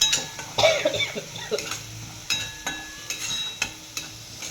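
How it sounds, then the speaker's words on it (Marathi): Sabudana khichdi with green chili, salt and a little sugar is stir-fried in a pan: a soft sizzle runs underneath as a spatula makes irregular scraping and clinking strokes close by. "अशी छान अशी परतून घेते खिचडी"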